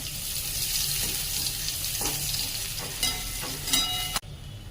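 Onion hits hot oil tempered with mustard seeds, cumin and curry leaves, giving a steady bright sizzle with a few clinks of a spoon before the sound cuts off abruptly.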